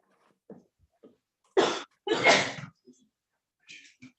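One sharp sneeze breaks out during a remote court hearing, a short gasp followed by a loud burst, surrounded by quiet breaths and faint murmurs.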